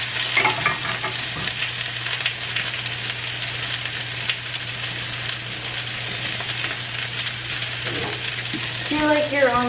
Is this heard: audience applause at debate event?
no